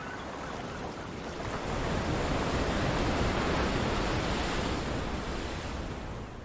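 Stormy ocean waves breaking on rocks in False Bay, a dense, loud roar of surf that swells in the middle and eases slightly toward the end, with wind buffeting.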